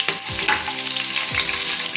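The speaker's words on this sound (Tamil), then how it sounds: "இது பொரிஞ்சு வந்த உடனே அது கூட நம்ம வச்சுருக்க பச்சை மிளகாய் இதையும் போட்டு கொஞ்சம் கிண்டுவோம்." Green chilies and spices fry in oil while being stirred, a loud close sizzle with scraping stir sounds, during prawn biryani cooking in a pressure cooker.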